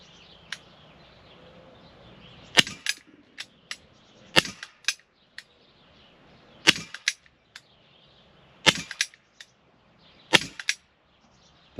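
A UX SA10 blowback 4.5mm air pistol firing, sharp snapping shots with a quick mechanical follow-up click, about six shots spaced a couple of seconds apart, close and loud in a quiet outdoor setting.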